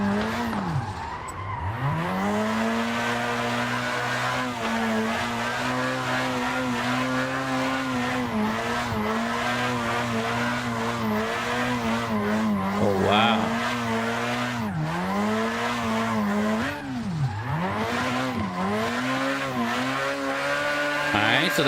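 A drift car in Assetto Corsa revs hard and steadily, its engine pitch repeatedly sweeping up and dropping with gear changes, while the tires squeal and skid through the corners for the whole run.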